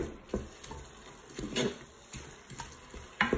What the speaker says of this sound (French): Je vais venir mélanger tout ça.